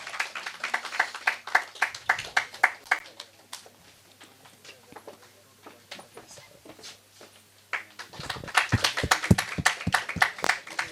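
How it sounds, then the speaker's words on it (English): An audience at an award presentation claps in bursts of distinct claps, fading to near silence in the middle before a fresh round of clapping starts up again. "A big round of applause for the winners."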